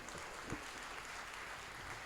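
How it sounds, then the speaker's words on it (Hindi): Faint, steady clapping from an audience at an all-India Hindi poetry recital, heard at a distance and continuing briefly without other sounds. "तालियां बजाइए"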